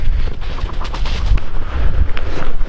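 Gunfire while hunting ptarmigan outdoors, a shotgun-type blast amid loud, rough wind or handling noise, with several sharp cracks across a short span and no talking.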